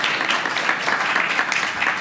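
An audience claps for a presenter at an academic talk on the costs of acute care virtual visits, giving brief, even, dense applause.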